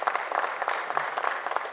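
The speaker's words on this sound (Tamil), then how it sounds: "அவங்களுக்கு ஒரு பெரிய கைத்தட்டல் கொடுக்கலாம்" An audience at a Tamil film audio and trailer launch claps for the assistant directors' team, a dense steady round of applause from a fairly distant crowd that carries on for the whole stretch.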